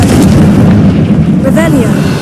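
Confringo blasting spell going off in Hogwarts Legacy, a loud continuous rumbling boom with crackling burst tones, filling the whole moment with speech-like game audio over it.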